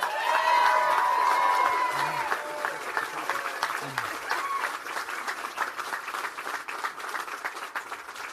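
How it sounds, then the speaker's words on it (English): A political rally crowd at a Florida governor's Senate campaign announcement breaks into sustained applause and cheering, steady and loud throughout, with a voice briefly heard over it. "I want to give a big round of applause"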